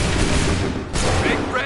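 A musket volley from the Assassin's Creed 3 video game produces a dense, loud, sustained crackle of overlapping gunfire, with a brief dip midway before it resumes.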